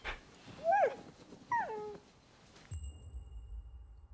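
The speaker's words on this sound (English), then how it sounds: "Pilgrim dogs." Two short whimpering yelps from a pilgrim dog in the samurai action game Rise of the Ronin, close and distinct over a faint low background, followed by a dull rumbling ambience.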